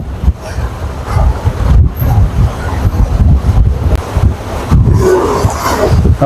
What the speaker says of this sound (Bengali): শুয়ে শুয়ে পদ্মা নদীর বাতাস